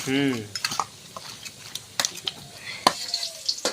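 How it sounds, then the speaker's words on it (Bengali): Potatoes frying in a pan while being stirred, with sharp clinks of a utensil against the pan over a low sizzle; a brief voice-like tone opens the sound. "আর আলু তো আমার প্রায় ভাজা হয়ে গিয়েছে"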